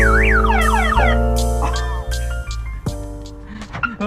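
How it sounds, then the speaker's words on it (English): A Toyota Celica's car alarm cycles through its patterns: rising and falling wails, then steady tones and warbles, loud and nearby. "at least we know your alarm works"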